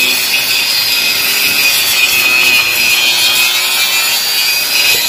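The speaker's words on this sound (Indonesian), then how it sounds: "unit ini langsung di grass sanding memakai ampas kawat ya ini, biar halus" A wire brush scours a rusty car body panel, a loud, close, continuous abrasive scraping and rasping that runs steadily without pauses.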